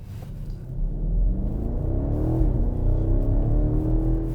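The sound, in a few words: BMW X7 M50i accelerating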